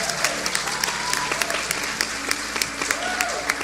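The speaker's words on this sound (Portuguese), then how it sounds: "Aplauda Jesus." Church congregation applauding, a dense wash of clapping with sharp individual claps standing out, loud and close, running steadily throughout.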